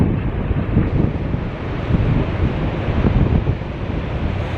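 Large ocean waves surge and crash around a boat at sea, mixed with heavy wind buffeting the microphone, a loud, rumbling, uneven wash that swells and eases without any voices.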